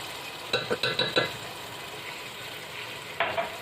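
Ginger and garlic hitting hot oil in a pan for chana pulao, a burst of short crackling sizzles followed by a quieter hiss and one more sizzle near the end, with no voices.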